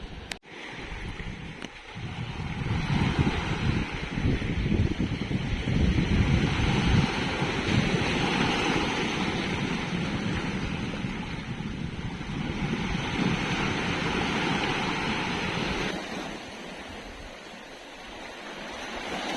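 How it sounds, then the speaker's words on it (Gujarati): A rough, stormy sea crashing on the Saurashtra coast, a loud sustained roar of surf with wind buffeting the microphone that eases slightly near the end. "આ પાણી ભટકાઈને નીચે પડે છે, એટલે આવા ખતરનાક સીન આ સમુદ્રમાં થાય છે"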